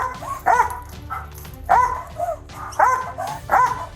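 A police dog barks in short sharp bursts, four or five loud barks spaced about a second apart with whines in between, close by and indoors.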